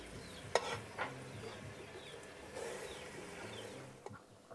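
Thick palm juice being stirred as it boils down into palm sugar in a rural Cambodian home kitchen, with soft scraping knocks and a steady bubbling hiss throughout, no talk.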